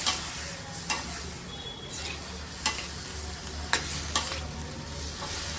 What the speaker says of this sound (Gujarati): બધું શાકભાજી આપણે એમાં એડ કરી દઈશું. અને મિક્સ કરી લઈશું.